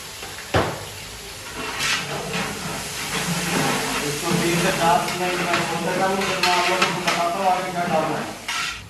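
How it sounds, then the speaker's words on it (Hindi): Garlic tipped by the spoonful into hot oil in a large pot for commercial beef pulao, giving a loud, steady steamy hiss and sizzle with a sharp burst at the start while a voice talks over it. "ये लहसुन डाल देंगे, 1 2 3, ये 4 टेबल स्पून भर के डाल देंगे"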